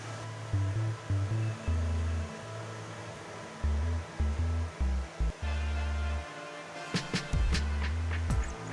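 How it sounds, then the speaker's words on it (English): A sewing machine runs in short bursts while stitching the side seams of a pleated-neckline blouse with flutter sleeves, the motor humming on and off in stop-start stretches, fairly quiet and close, ending with a few sharp clicks. "join the sides on the sewing machine"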